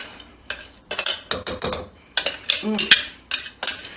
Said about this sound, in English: I'm just going to transfer it into a little bowl here